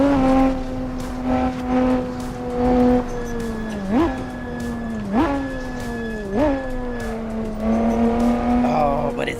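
In the Assetto Corsa driving game, a Lotus V6 holds a steady buzzing note, then runs through several rapid shifts, each a sharp rev blip and drop, with light tire squeal underneath.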